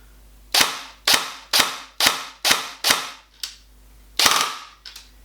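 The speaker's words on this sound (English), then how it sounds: "Nice rate of fire there, about 20 to 21 rounds a second, and super responsive." A Classic Army Nemesis LS12 electric airsoft rifle fires in short full-auto bursts, about six sharp close snaps in even rhythm, a pause, then two more quick shots, crisp and loud with no voices.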